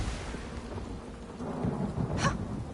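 Thunderstorm in the Elder Scrolls Online game: steady rain hiss under low rolling rumble, swelling toward the end with a brighter crack of thunder near the close.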